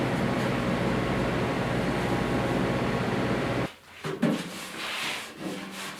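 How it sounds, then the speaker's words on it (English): A hand file scrapes steadily across body filler on a car door, a dense, close rasping that stops abruptly after about three and a half seconds, followed by a few quieter knocks and handling sounds. "I'm still old school, so I like to file some of my filler."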